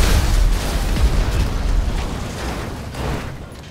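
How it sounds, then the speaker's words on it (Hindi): A time bomb explodes on Franklin's Thar in a GTA video game, a loud, roaring blast that rumbles on and slowly fades over a few seconds, with no voices. "एक टाइम बम फ्रैंकलिन के थार पर लगा दी"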